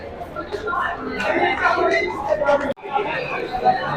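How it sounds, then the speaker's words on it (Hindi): Dense crowd bustle at Mumbai's CST railway station, a steady murmur of many voices and chatter filling the space, with a brief sharp dropout near the end before the hubbub resumes. "देखिए गाइस कितना भीड़ है इधर। ये होता है CST मुंबई CST, सबसे बड़ा स्टेशन है ये।"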